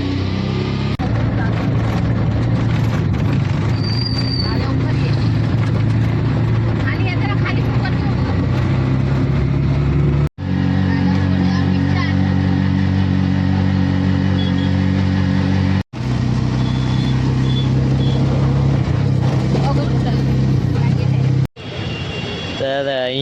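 A car engine runs steadily and loud throughout as the vehicle pulls away, a low droning hum broken by a few brief cuts, with people talking over it.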